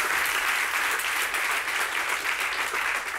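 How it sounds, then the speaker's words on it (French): A studio audience at a talk show claps loudly and continuously for a guest, a dense, unbroken wash of applause from start to finish. "On peut l'applaudir très fort, s'il vous plaît"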